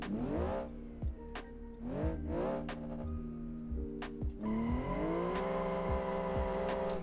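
An Ibishu Saga drifting in the BeamNG driving game, its engine revving up and down in repeated surges while the tyres squeal and chirp through the slides; close and prominent, with no voices.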